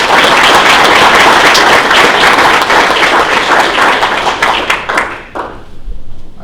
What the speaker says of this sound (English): let's give these students another hand clap here.